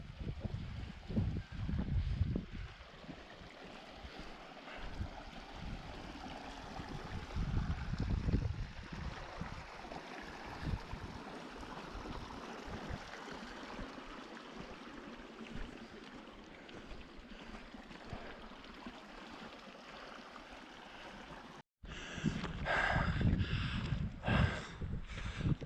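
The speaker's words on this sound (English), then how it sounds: "Looks like coming to a river, or a rivulet." Small mountain stream on the Quilotoa Loop hike in Ecuador, a steady trickling rush heard close with wind gusts and a few thumps, continuing after a brief cut.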